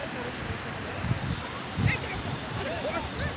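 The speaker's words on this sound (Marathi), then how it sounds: "हा समुद्र आहे आणि मी बीचवर आहे" Sea waves at Velas beach roll in as a steady, broad wash of surf with wind buffeting the microphone, and faint voices are occasionally audible beneath it.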